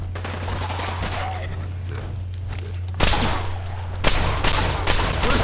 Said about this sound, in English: Just keep shooting stuff, Gage.